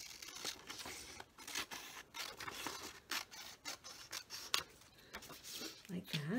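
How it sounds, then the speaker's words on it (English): Scissors snip along the side of a paper page for a December Daily scrapbook, giving a series of quiet, close cuts in an irregular rhythm while a voice speaks softly underneath. "I'm just going to trim up the side here"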